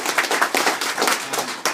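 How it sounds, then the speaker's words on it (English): A small audience at a bankruptcy information meeting claps in a short, uneven burst, individual hand claps distinct and fairly close. "So would you guys give me a round of applause for Sandy first?"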